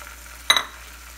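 Two beaten eggs seasoned with salt and black pepper hit a hot frying pan for an omelette, producing one short, sharp burst of sizzle that quickly fades to a quiet hiss.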